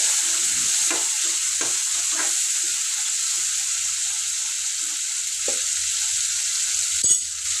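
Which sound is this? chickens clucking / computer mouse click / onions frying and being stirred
onions frying and being stirred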